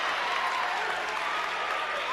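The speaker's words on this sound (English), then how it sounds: "Crowd getting loud again to try to get in Lanier's head." A basketball crowd at an Oklahoma Christian vs York homecoming game roars after a missed free throw, a dense, loud wash of cheering, shouting and some clapping that holds steady throughout.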